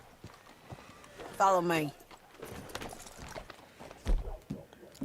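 Horse hooves clop from the video game Red Dead Redemption 2 alongside a brief whinny, with soft footfalls under talking voices and a louder thump near the end.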